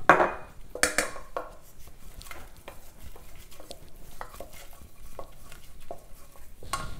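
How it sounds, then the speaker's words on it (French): Flour being stirred into a roux in a hot pan, with repeated spoon scrapes and clanks against the pan over a low sizzle, close up, with no talking. "Vous voyez, ça fait un petit roux."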